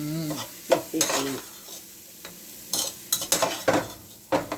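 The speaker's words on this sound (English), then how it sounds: "we're going to stir fry it" Pumpkin is stir fried in a pot for Jamaican coconut pumpkin rice, with repeated scraping strokes of a spoon against the pot over a steady sizzle, close up and with no talk.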